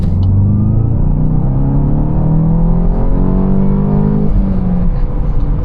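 A Volkswagen Golf GTI 380 accelerates hard at full throttle, its engine note climbing steadily in rising harmonics over a constant road rumble, with a brief dip near the end as the revs drop before pulling again.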